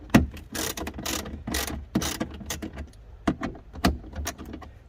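A socket ratchet loosening 7mm bolts on a 2019 Ford F150 headlight assembly, a close series of quick clicking bursts with short gaps between strokes.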